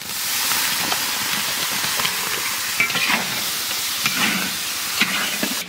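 Spices including cumin, coriander and dried chili fry with chopped tomato in a pan for a chicken curry, making a loud, continuous sizzle and hiss broken by scraping stirs, with no talking.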